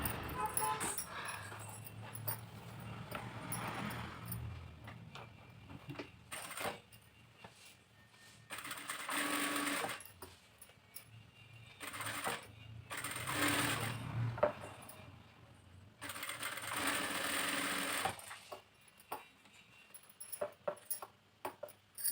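A sewing machine runs in several stretches, stitching patchwork fabric along a drawn design, with a quiet whirring clatter and soft handling noises between the runs.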